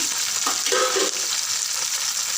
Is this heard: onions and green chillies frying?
yes